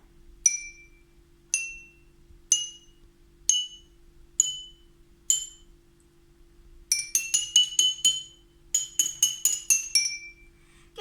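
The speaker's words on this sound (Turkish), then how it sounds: "eşit kuvvetlerde bardaklarımı vuruyorum" Drinking glasses used as a homemade musical instrument, struck one at a time with equal force: six separate ringing clinks at a slow, steady pace, then two quick runs of rapid bright tones, close and clear with no talking.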